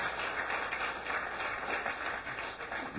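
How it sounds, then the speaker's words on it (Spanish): Audience at a Christian religious event in Guatemala applauding, a dense, steady patter of many hands clapping at moderate volume throughout. "Le das un aplauso fuerte al Señor."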